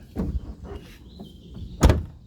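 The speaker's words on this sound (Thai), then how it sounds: "สังเกตได้ว่ารถพวกนี้เวลาเปิดปิดประตูเนี่ยเสียงมันจะไม่ก้องแกงแกงครับ มันจะปิดแบบ เสียงมันแบบเรียบร้อยมากครับ" Door of a Toyota Crown JZS133 sedan with a 2JZ 3.0-litre engine, opened and then shut, giving a soft opening click and a single firm, solid close near the end, close by with no voices.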